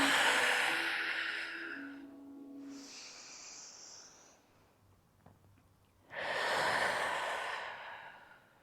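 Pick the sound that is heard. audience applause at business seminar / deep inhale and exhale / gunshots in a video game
deep inhale and exhale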